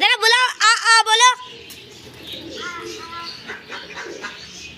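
After a few words of speech, soft pigeon coos and rustling birds are heard nearby as the pigeons are fed grain in a quiet outdoor setting.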